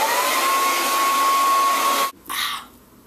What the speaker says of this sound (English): I'm just going to use my hairdryer